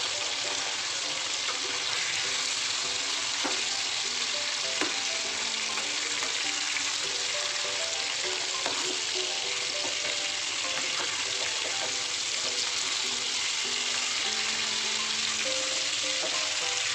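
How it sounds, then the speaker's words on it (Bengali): Chicken bhuna masala frying in oil on a low flame, a continuous dense crackling sizzle that holds steady throughout, close by with faint occasional stirring clicks. "লো ফ্লেমে আমি ভালো করে ভেজে নিচ্ছি।"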